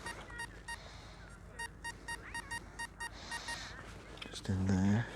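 Repeated short electronic target beeps from a Nokta Makro Simplex metal detector with an SP 24 coil sweeping wet beach sand, a dozen evenly spaced tones, then a louder warbling signal at the end over faint background noise.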